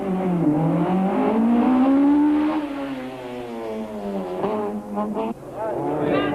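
A Toyota Conquest rally car pulls away from the start line into a short spectator stage through town back streets at a 1992 rally, its loud, close engine revving and climbing steadily in pitch before shifting and dipping.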